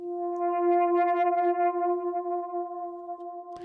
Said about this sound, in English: Later on in the drop, you can hear this subtle distorted lead sound coming in